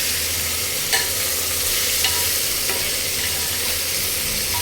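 Vegetables and beans for pulao sizzle in a hot pan while being stirred, with a steady frying hiss broken by a few light scraping clinks of the spoon.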